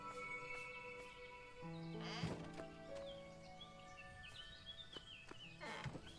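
Sheep in the farming game Everdream Valley bleat briefly over soft game music and bird chirps, fairly quiet and set back in the mix.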